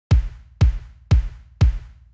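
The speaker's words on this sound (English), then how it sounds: "I have kind of two drum samples going on." Two kick drum samples layered together, one an extra over-the-top organic kick, thump four times at an even, steady pace. Each hit is deep, punchy and alone, with a quick decay.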